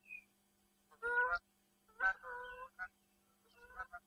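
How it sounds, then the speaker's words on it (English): A goose honks repeatedly while flying over Cheshire countryside, several loud nasal calls in short bursts separated by brief quiet gaps, clear and fairly near with no talk. "somewhere over there there's a goose flying over"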